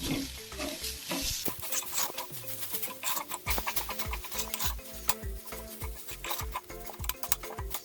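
Chopped banana flower sizzles in a hot pan while a utensil stirs and scrapes it in steady, repeated strokes, close and fairly loud.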